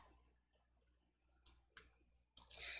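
A computer mouse gives a few sharp, close clicks, a couple spaced apart and then a quicker pair, faint against a quiet background.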